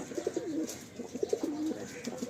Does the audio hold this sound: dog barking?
no